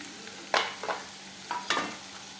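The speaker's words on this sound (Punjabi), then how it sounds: "ਤੇ ਇਹ ਹਰੀ ਮਿਰਚ ਉਸ ਨੂੰ ਇਦਾਂ ਫਰਾਈ ਕਰਦੇ ਰਹਿਣਾ ਚੰਗੀ ਤਰ੍ਹਾਂ ਨਾਲ" Red and green chilies frying in a pan for kadhi, with a few short bursts of sizzling and stirring scrapes against a steady low background, no voices.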